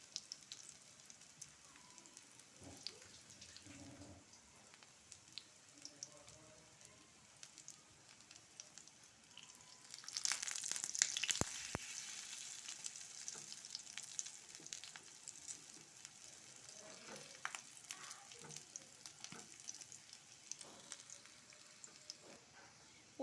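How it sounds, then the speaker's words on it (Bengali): Pumpkin flower fritters frying over low heat, a soft steady sizzle that swells louder for a few seconds midway, with faint stirring and spatula taps. "এবার এটাকে একটু লো আঁচে ভেজে নিতে হবে।"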